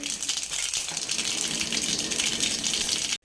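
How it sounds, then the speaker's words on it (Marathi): Mustard seeds crackle and splutter in hot oil in a kadhai, a dense, steady hiss of popping that runs loud and continuous for about three seconds before cutting off abruptly. "मोहरी छान तडतडली आहे"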